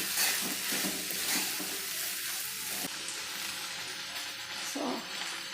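Sprouted gram tipped into onions already browning in a pan, with steady frying sizzle and the scrape of stirring throughout, close and fairly loud.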